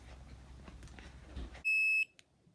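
An OUSI bark collar for dogs gives a single steady electronic buzz at power-off, a clear tonal beep lasting about half a second and loud against quiet room noise, then silence after it cuts out.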